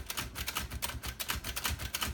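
Red 1956 Royal Quiet De Luxe manual typewriter being worked, a rapid series of sharp mechanical clacks and key strikes in an even rhythm, close and alone with no talk.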